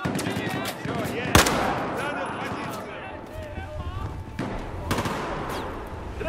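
Battlefield 4 combat fills the scene with rapid bursts of automatic gunfire and a few sharp, louder shots amid battle noise, while voices shout over it.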